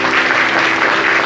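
Crowd applause at a school year-end ceremony, a brief burst of steady, dense clapping that is loud and close, with no speech over it.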